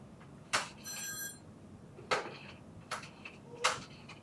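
A telephone rings with a short electronic trill, followed by several sharp clicks and knocks, like a handset being handled nearby.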